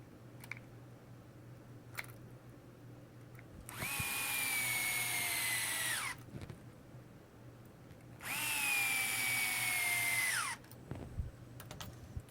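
An electric screwdriver drives the two rear bumper screws to mount body posts on a V100-C touring car chassis. Two separate whirring bursts of about two seconds each have a rising then steady motor whine, close by, with quiet pauses and faint handling clicks between them.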